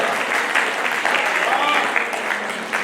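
An audience at a comedy poetry recital breaks into steady, sustained applause, a dense wash of many hands clapping at even volume, with some voices mixed in.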